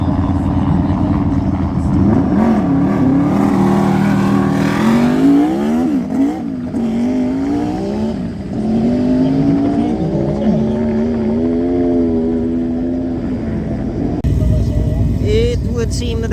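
A turbocharged car makes a fast run on an ice track at Sandviken, its engine climbing and falling through revving gear changes, loud and continuous, with a voice talking over it.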